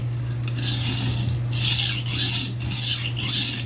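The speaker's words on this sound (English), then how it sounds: "And I'm going to sharpen this knife so it's made for kitchen use." Kitchen knife drawn across a sharpening surface in repeated rasping strokes, several close, evenly paced scrapes with short pauses between, over a steady low hum and no talking.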